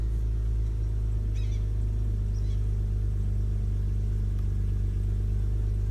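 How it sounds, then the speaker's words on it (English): A BMW E36 six-cylinder engine, just fitted with a new idle control valve, idles slightly high with a steady, even low rumble heard up close and alone. "Idling, albeit a little high, but hopefully it comes back to normal."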